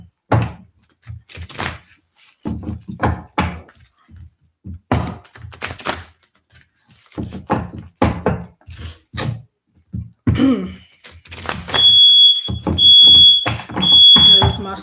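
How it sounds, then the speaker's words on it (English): Smoke alarm giving three high, evenly spaced electronic beeps indoors, coming after a stretch of talking and a dull thunk. "There's my smoke alarm."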